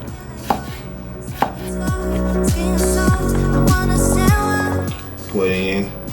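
A kitchen knife crushes and chops peeled garlic cloves on a board, a run of sharp, closely spaced knocks, loud and near, with quieter taps at the end.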